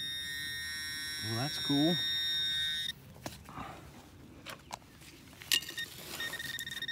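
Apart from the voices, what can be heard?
metal detector signal tone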